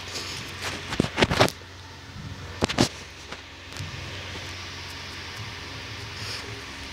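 A garbage truck collecting trash outside: a steady mechanical rumble and hiss with a few sharp clanking bangs early on, heard from some distance and fairly quiet.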